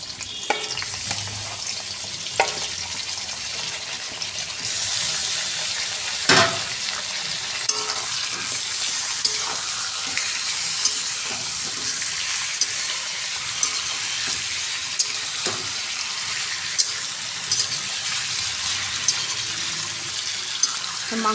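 Chicken pieces coated in turmeric and mustard oil fry in a pan with a steady, hissing sizzle close by, dotted with occasional sharp pops and spatters throughout.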